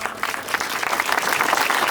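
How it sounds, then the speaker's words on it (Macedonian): Applause at a political speech, a short, steady patter of many hands clapping at moderate loudness, with no pauses and no voice over it. "мислам дека и аплауз од него заслужува"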